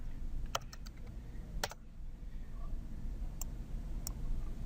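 Several sharp, isolated key taps on a computer keyboard while entering a command into a PuTTY terminal, spaced irregularly over a steady low hum of room noise.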